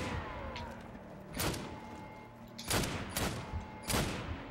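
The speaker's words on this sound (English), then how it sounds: "Police are just shooting at them." Police open fire in the Army of Two video game: several loud sharp gunshot bursts crack out at irregular intervals over a low background rumble.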